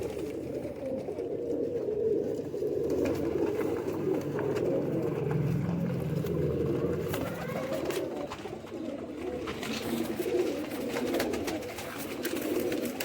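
Pigeons coo softly in a loft among high-flying birds, a low, continuous murmur of cooing from several birds, moderately close, with faint background noise.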